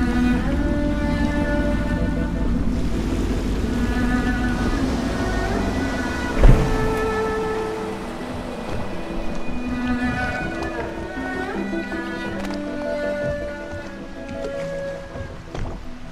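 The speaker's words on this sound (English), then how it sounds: "I should concentrate on piloting this boat." A boat piloted through rain in the Dishonored video game gives a steady close wash of rain and water under a sustained musical drone, with one sharp knock midway and no talking.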